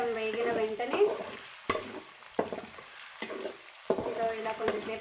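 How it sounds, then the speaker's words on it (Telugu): Tender tamarind leaves fry in a pan and get stirred in Andhra village-style cooking, giving a steady sizzle broken by occasional scraping strokes of the spatula. The sound is close, with no talking. "ఇలా కొంచెంసేపు వేగనివ్వాలండి."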